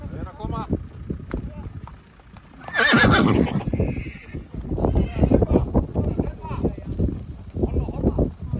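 Yearling horses let out a loud, shrill whinny partway through, set among hoof clip-clops and a busy outdoor bustle, while people talk over most of the scene.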